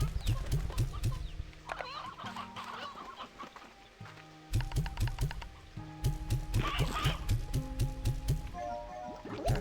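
Chickens in the Slime Rancher 2 video game cluck repeatedly in short rhythmic bursts, loud and close, with some game sound effects layered in and no talking.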